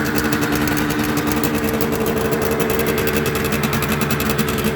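A Suzuki GT125L motorcycle engine runs steadily on choke, a close, loud, buzzy two-stroke idle with a fast, even pulsing rhythm and no voices.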